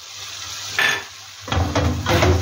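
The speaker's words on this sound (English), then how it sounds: "we keep stirring and mixing everything so well" A spoon scrapes and stirs coconut fish curry in a pot over the heat, giving a few close scraping strokes with light sizzling underneath.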